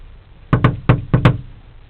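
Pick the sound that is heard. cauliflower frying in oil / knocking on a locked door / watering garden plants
knocking on a locked door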